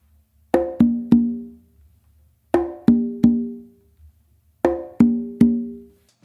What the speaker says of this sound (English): Now if we were to do open slaps